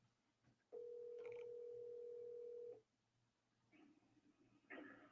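An unanswered phone call produces a single long, steady ringback tone lasting about two seconds, followed by quiet and then faint voice-like sounds on the line.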